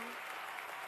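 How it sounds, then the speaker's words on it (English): A short, dense burst of audience applause fills a hall at a closing ceremony as medal winners are honored, steady and even throughout. "a big round of applause to our first cluster of medal winners"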